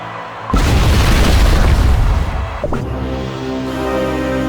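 A loud, deep boom erupts as the Demon King Bomb potion detonates in the Cookie Run: Kingdom game, followed by a sustained rumbling roar that slowly settles into a lower drone.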